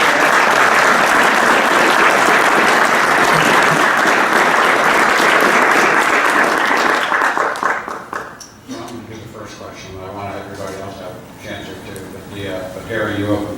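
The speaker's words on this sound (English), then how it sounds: "Please, round of applause" An audience applauds a national security panel, sustained dense clapping for about eight seconds before it thins out and gives way to a speaker talking.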